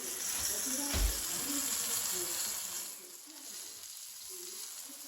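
Floured whiting fillets frying in a pan give a steady, fairly loud hiss of sizzling oil, with a low thump near the start as a fillet drops in. The sizzle then settles to a quieter, even crackle.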